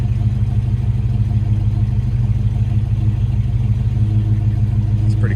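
A 1971 AMC Javelin SST engine running at a steady idle, a loud, close, even low rumble with a constant throb that continues unchanged throughout.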